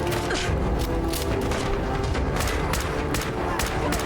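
Rapid hip-fire gunfire in Fallout 4 rattles on without a break, loud, close and dense, with mechanical clatter running through the bursts.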